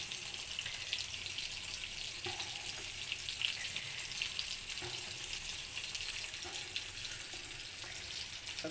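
Fish coated in masala sizzles and crackles in hot oil in a home kitchen, a continuous close frying hiss with scattered pops and the occasional clink of a utensil, with no talking.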